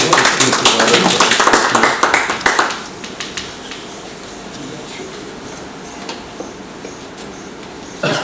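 An audience at an Urdu book launch gives a burst of applause welcoming a speaker, with dense clapping for the first few seconds that thins to a few scattered claps before fading into room quiet.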